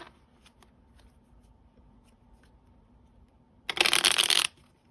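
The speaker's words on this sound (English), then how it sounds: "I'm only going to shuffle these 3 times." A deck of tarot cards is riffled once in a short, loud burst of under a second near the end, preceded by quiet room tone with faint ticks and a low hum.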